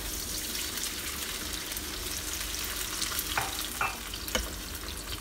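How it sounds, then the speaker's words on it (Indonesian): Garlic and shallots sautéing in a pan for an Indonesian vegetable dish: a continuous close sizzle and crackle with a few sharp pops and stirring scrapes near the end. "Tumis bawang putih, bawang merah terlebih dahulu."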